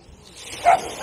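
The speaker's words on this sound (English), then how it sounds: "Shush, dog." A dog on a seaside pier at sunset gives a short, fairly faint bark or yip, heard alone over quiet outdoor ambience.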